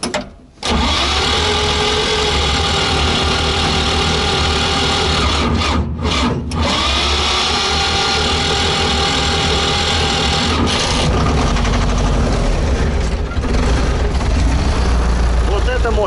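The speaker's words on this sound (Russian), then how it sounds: "Трактор, возможно, и не заведется, потому что Т-40 не любит холода" An old T-40 tractor engine turns over and settles into a loud, steady diesel idle in cold weather, a continuous mechanical chugging with a brief dip in the middle.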